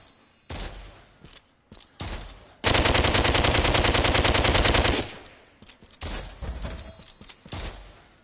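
Skeletons fire at the player in the VR game DWVR: one sustained, loud burst of rapid machine-gun-like gunfire lasts a couple of seconds, with shorter bangs and clatter before and after it.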